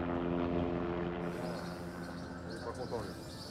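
A helicopter brought in by emerald mine owners drones overhead with a steady rotor hum and a rhythmic, beating tone, heard beneath a narrator's voice throughout.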